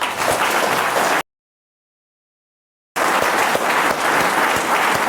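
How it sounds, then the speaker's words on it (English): An audience at a summit applauds its panelists, a loud, dense burst of clapping that cuts off abruptly into total silence for a moment, then resumes just as full and sustained. "give a huge round of applause to our panelists"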